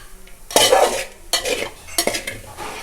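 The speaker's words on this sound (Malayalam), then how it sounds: "വെളുത്തുള്ളി തേങ്ങയുടെ കൂടെ മിക്സ് ചെയ്യാം." Crushed garlic and grated coconut being stirred into cooked leafy greens, a few loud scraping stirs of a spoon against a pan in separate bursts, close and clear with no voices.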